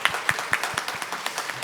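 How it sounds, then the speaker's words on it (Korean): A church congregation claps together in honour of God during a service, making a short run of evenly spaced, sharp handclaps at moderate volume with no voices over them. "놀라운 은혜를 우리에게 베풀어 주신 하나님께 이 시간 영광의 박수 한번 드렸으면"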